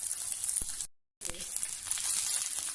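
Onions sizzle in hot oil for an aloo paratha filling, a steady bright hiss of frying that drops out for a moment and then resumes, fairly close.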